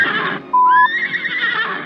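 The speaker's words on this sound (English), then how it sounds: "drawn by 4 sleek black horses." One of four sleek black horses drawing Cinderella's golden coach lets out a single loud, shrill whinny that rises and trembles for about a second, with a faint ambient rumble before and after.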